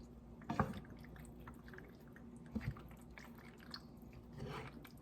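Penne alla vodka being stirred in a pan with a spoon, giving quiet wet squelches and a few soft knocks against the pan over a low steady background, with no talking.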